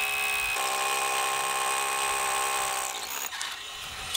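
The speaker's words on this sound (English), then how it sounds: "Let's drill a hole in it first." A steady, loud high-pitched drilling whine runs continuously for about three seconds while boring a hole in concrete, then cuts out into rattling and scraping.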